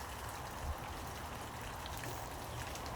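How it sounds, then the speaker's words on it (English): Rain starting to fall outdoors makes a faint, steady patter of drops on surfaces, continuous and soft throughout, with no voices. "it's starting to rain"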